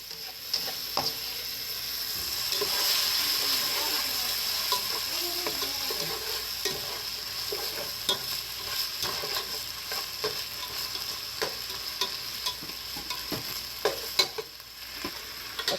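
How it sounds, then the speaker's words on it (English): Meat seasoned with salt and pepper frying in a pan on the stove, with a steady close sizzle broken by repeated scraping and clicking strokes as it is stirred; no one speaks. "Gonna stir that around a little bit."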